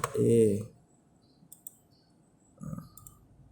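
Computer mouse clicks and keyboard typing while setting up a game server, a few sharp clicks and short bursts of keys at close range, with a voice briefly at the start.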